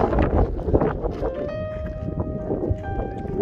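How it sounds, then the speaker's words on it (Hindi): Strong wind blows at Al Khor Park in Qatar, buffeting the microphone with a low, uneven rumble that rises and falls throughout. "बहुत ही हवा चल रही है"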